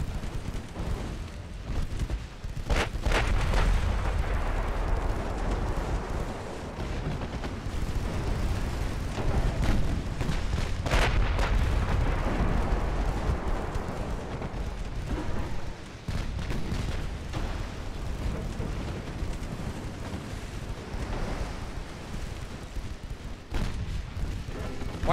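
Warships trade naval artillery fire in the game Ultimate Admiral Dreadnoughts: a dense, continuous barrage of heavy booms and rumbling blasts that keeps rolling for the whole stretch, with no one talking.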